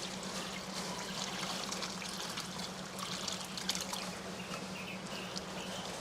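Curdled milk poured through a clean cotton cloth strainer while making paneer, a steady close trickle and splash of liquid running for several seconds over a faint low hum.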